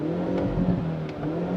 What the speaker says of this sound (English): even from in here, you can still hear the lovely pops and crackles from the exhaust